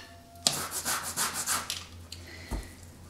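An orange is zested against a grater in a run of about eight quick, rhythmic rasping strokes, close and crisp, followed by a lighter scrape and a soft knock.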